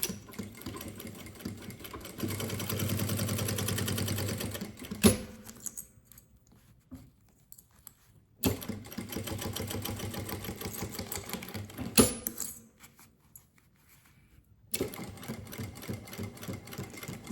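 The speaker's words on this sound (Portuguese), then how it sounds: "vou começar de novo pelo principal, fazer exatamente a mesma costura que eu fiz do outro lado agora" A sewing machine stitches the side seam of a handmade bag in several runs of fast, steady whirring. Short pauses and sharp clicks fall between the bursts, and the runs start and stop abruptly.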